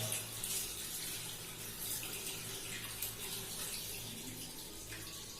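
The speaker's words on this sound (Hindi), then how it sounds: "अब आपने क्या करना है कि हैंडल के ऊपर पानी डालना है।" Tap water running and splashing over the handle of a faucet during handwashing, a steady hiss of flowing water close by without any talk.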